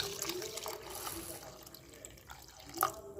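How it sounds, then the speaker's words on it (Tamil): Clean water is poured onto washed rice being soaked for adai dosa batter, giving a faint, steady trickling and splashing with a brief brighter splash near the end. "இப்போ இதில் நல்ல தண்ணி சேர்த்துக்கலாம்."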